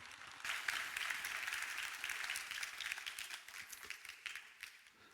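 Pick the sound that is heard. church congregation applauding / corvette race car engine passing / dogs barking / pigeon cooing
church congregation applauding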